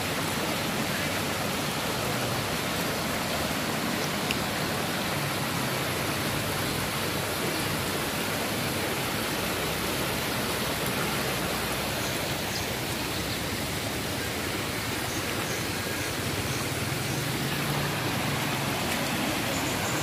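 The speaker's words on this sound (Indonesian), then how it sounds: "Ini sungai di sana tuh ada sungai." Floodwater rushes through a river beside an asphalt road in Kampung Bugis, Tarakan, a steady broadband roar of flowing water that stays constant and fairly distant throughout, with no speech.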